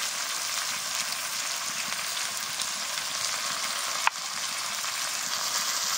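Chicken pieces with cumin, coriander, Kashmiri chilli powder and salt fry in a pan, an even, dense sizzle holding steady throughout, close, with a single sharp utensil tap midway.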